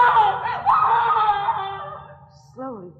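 A woman screams in a classic suspense radio drama, a long, loud, wavering cry lasting about two seconds, followed by a shorter, falling wail.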